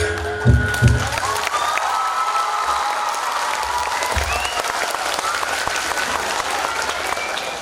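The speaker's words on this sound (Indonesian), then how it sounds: "tepuk tangan sekali lagi Banjer dari Karawang" An audience at a Topeng Banjet theatre performance by a Karawang troupe applauds steadily, a dense even wash of clapping with a few low thumps at the start and faint background sounds underneath.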